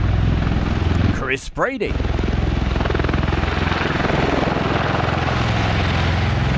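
Aircraft engines roar steadily during a mass takeoff from Mildenhall for D-Day celebrations, a loud continuous drone, briefly broken by a short burst of speech near the start.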